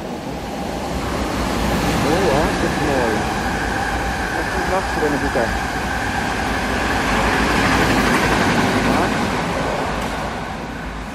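A train passes through Rijswijk station, a sustained broadband rumble with a steady tonal hum and wind-like roar lasting about eleven seconds, while people talk casually nearby.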